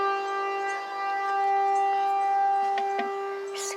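A tornado warning siren wails with a steady, loud sustained tone, slightly rising and falling, close and unaccompanied by talk.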